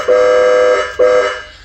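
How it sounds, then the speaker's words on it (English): A loud, sustained air horn blast from a 2020 Chrysler Pacifica funeral car, then a second shorter blast right after, bright and brassy with a steady tone. "this one also got the nice air horn feature"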